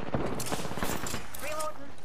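Gunfire in Apex Legends, short sharp shots going off in quick bursts among other game effects and brief tonal cues.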